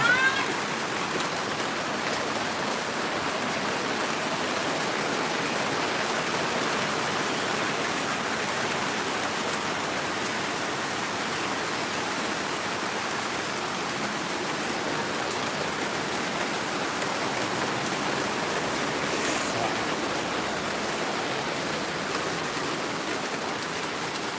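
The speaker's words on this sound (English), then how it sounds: "this is definitely Thai type weather. It rains really hard for like a minute" Heavy tropical rain pours down in Thailand, in the Klongtoey slums of Bangkok, as a dense, loud, steady hiss that holds unbroken for the whole stretch with no voices.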